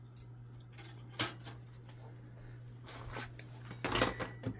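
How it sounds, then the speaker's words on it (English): Metal measuring spoons jangle in a few brief clinks as they are picked up in a home kitchen while pickling red onions, with a steady low hum underneath and quiet handling sounds between the bursts. "I'm going to grab my ½ teaspoon measuring spoon there."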